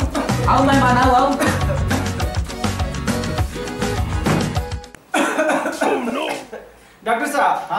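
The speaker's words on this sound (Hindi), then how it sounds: "हमरा 4 दिन से खांसी होल बा" Someone coughs repeatedly in harsh bursts, close by, mixed with talking and a brief pause of near quiet.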